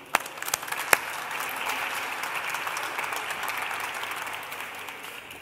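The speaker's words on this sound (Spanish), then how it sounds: "Un aplauso para Sergio." A live audience at a cooking class claps for Sergio, with a few sharp early claps swelling into sustained, moderately loud applause that fades out over several seconds.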